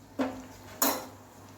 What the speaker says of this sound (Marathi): आणि व्यवस्थित ढवळून घ्यायचंय आणि त्याला 2 मिनिट शिजवून घ्यायचंय चांगलं.